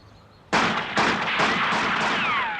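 Five rapid gunshots from a UNIT soldier's rifle in classic Doctor Who, sharp loud cracks in quick succession with a ringing tail and whine.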